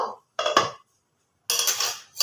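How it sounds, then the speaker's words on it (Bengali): Metal lid lifted off a cooking pot of marinated chicken in a home kitchen, giving two short clattering scrapes, a pause, then a longer metallic rattle and a final brief clink, close and fairly loud. "অনেকক্ষণই ম্যারিনেট করে নিয়েছি এবার ঢাকাটা খুলব"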